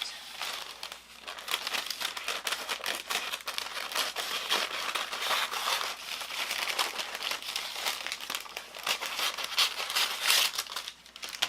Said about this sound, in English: I'm going to cut this cookie sheet to fit.